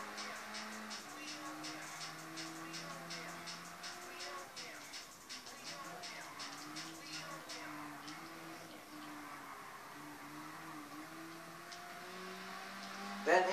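A car engine drones and shifts pitch as it drives in the racing video game Gran Turismo Sport, with steady gear-like tones rising and falling at a moderate level over several seconds.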